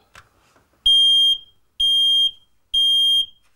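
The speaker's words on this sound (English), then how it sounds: "Part of the scheme is to install free, ultra-modern, 10-year guaranteed smoke alarms" A modern ten-year smoke alarm under test gives three loud, shrill, identical beeps, each about half a second long, separated by short gaps. The beeps ring out alone in a quiet room.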